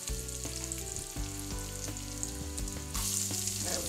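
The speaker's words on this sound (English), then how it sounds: "Okay, our bacon is ready for the onions. I'm just going to add those in." Onions tipped into a pan of frying bacon for a bacon-and-pea pasta dish, giving a steady close sizzle with scattered crackles and pops, and a louder burst of hissing toward the end; no voices.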